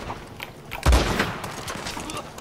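Gunfire in a video game, a loud boom followed by scattered shots and cracks over a couple of seconds, with a faint murmur of talk in the background.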